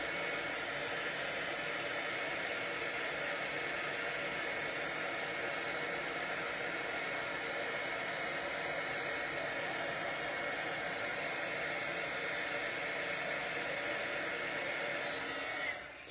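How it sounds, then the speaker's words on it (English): A heat gun blows continuously while embossing paper butterflies, a steady close whooshing hiss like a hair dryer that runs alone at an even level before cutting off at the end. "And then we'll give this a blast with the heat."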